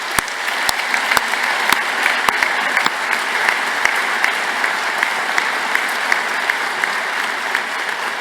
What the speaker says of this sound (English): I'm sure you'd like to join me in giving them a warm round of applause